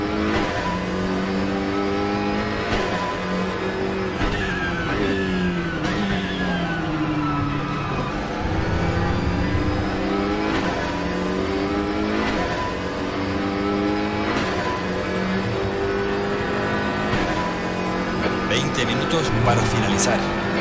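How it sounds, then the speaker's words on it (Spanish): Race cars roaring in a racing video game on the Daytona road course, engines revving and shifting through rising and falling pitches as cars close in from behind, with a voice speaking over the continuous engine noise. "Atento, se acercan coches por detrás."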